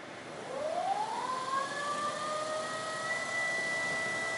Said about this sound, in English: So that's a pretty serious little motor.